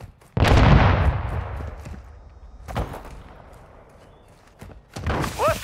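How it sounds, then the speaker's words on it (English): Mortar strike explosions in Call of Duty Modern Warfare: a heavy booming blast with a long rumbling decay, followed by scattered distant impacts and sharp cracks, then another burst of activity at the end. "Hostiles launched a mortar strike."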